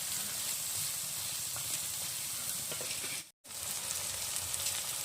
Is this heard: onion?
yes